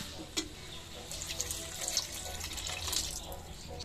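Water pours into a pan of fish head ghanta curry, a steady close stream of running, splashing liquid with a few light clinks, no talk.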